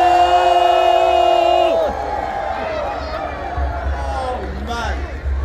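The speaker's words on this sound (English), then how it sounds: "London, make some noise!" A crowd gathered in Trafalgar Square, London, for an Eid Milap celebration cheers. A loud, sustained shout opens the clip, then a broad roar of voices and whoops continues underneath.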